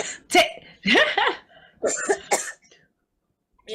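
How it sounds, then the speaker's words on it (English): Several harsh coughs in quick bursts, close and loud, with brief pauses between them, then silence. "I'm trying so hard not to cough, and now cough"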